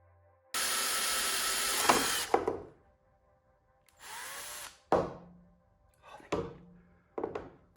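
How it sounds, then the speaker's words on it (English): Power drill boring a hole through the back of an Art Deco lamp, several loud whirring bursts of a few seconds each, separated by short pauses and ending in brief clunks, close and without talk. "then drilled a hole on the back that would allow our wire and bolt to fit through"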